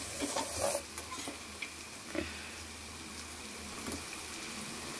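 Ginger garlic paste frying in a pan beside chicken pieces gives a soft, steady sizzle with a few scraping stirs and light clinks, fairly quiet and alone.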